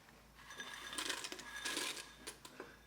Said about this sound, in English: So what we're gonna do is add in 1 cup of Fritos.